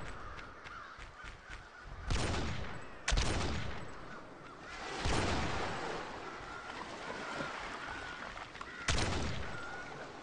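Gunshots ring out in the Z Island VR video game: four or so sharp, loud shots spaced a few seconds apart over a steady background of ambient game noise.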